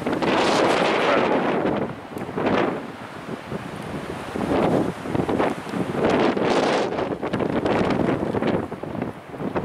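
Strong wind gusts roar across a Patagonia hiking trail in Torres del Paine, battering the microphone in loud surging waves that ease briefly and return, with no talking.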